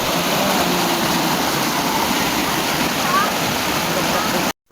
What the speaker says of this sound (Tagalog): So nabatin ninyo ang tingog sa naglagasak nga tubig nga gikan mismo sa bugwak o sa cold spring.